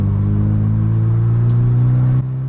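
Nissan Silvia engine winding out third gear on a race track, a loud, close, steady mechanical drone held at high revs that drops abruptly near the end as the throttle lifts.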